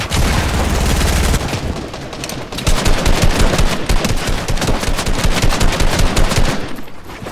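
Rapid automatic fire from a SCAR rifle in the video game Fortnite, loud and close, with dense bursts of shots running almost continuously under game noise.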